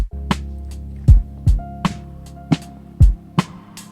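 A drum kit plays a loose lo-fi beat, deep kick hits and sharp snare cracks spaced unevenly, with a low sustained tone humming underneath.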